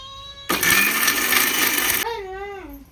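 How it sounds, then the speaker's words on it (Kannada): A kitchen mixer grinder (mixie) runs loudly for about a second and a half, a dense whirring roar that starts abruptly and cuts off, while a person talks and a voice is heard near the end. "ಇವಾಗ ಫಟ್ ಫಟ್ ಮಿಕ್ಸಿ ಹಾಕಿ"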